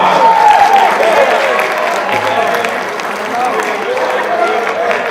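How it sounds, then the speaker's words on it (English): An audience at a Black History Month tribute performance applauds, a dense steady wash of clapping from a crowd that holds fairly loud throughout before slowly thinning. "Give another round of applause."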